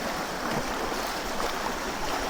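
Steady broadband rush of a long river flowing past stones, an even continuous wash with no voices, close and moderately loud throughout.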